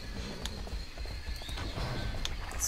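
In the online game Riders of Icarus, a horse's hooves clip-clop faintly over a steady background of game ambience, with no one talking.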